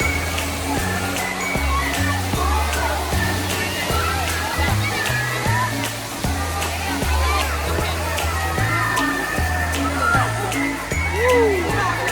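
Water sloshes and splashes steadily at a water park wave pool, a continuous rushing wash under music with a stepping beat and crowd noise.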